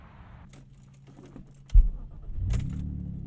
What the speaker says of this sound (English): Oh yeah, you hear a nice little muffler grumble there.